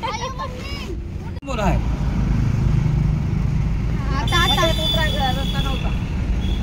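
A tempo goods carrier's engine drones steadily beneath a ride, with several people chatting and laughing over the continuous motor rumble.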